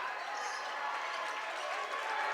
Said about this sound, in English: Gets the fans going a little bit and cheering for defense.